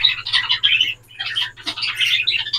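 Busy chorus of parakeets and African lovebirds in a colony breeding setup chirping and twittering up close, bright overlapping calls in bursts with a short lull midway.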